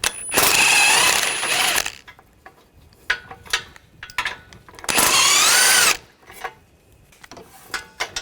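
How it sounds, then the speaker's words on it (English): Ratchet wrench with a 15mm socket backing out an outer bolt on a 2013-2022 Buick Encore 1.4L during radiator work, two long bursts of fast, loud clicking separated by a few seconds of quieter clinks and handling noises. "I'm going to take the outer bolt out, use a 15mm socket."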